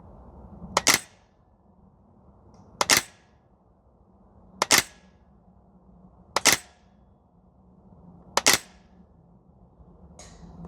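A Tokyo Marui SCP-9 gas blowback airsoft SMG fired single shots on an outdoor range: five sharp, loud cracks spaced about two seconds apart, each with a brief mechanical clack, over quiet background.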